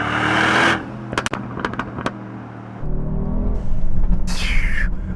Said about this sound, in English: From the blow-off valve and then from the exhaust